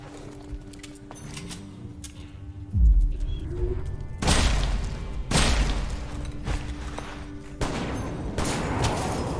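In the Western action game West of Dead, several loud gunshots crack out at irregular intervals, each a sharp bang with a brief ringing tail, over a low droning score and scattered clicks.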